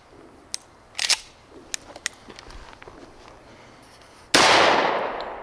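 A Wilson Combat Experior custom 1911 pistol fires outdoors, with a series of sharp, fairly distant cracks spaced irregularly, then a sudden loud, close blast of noise that slowly fades.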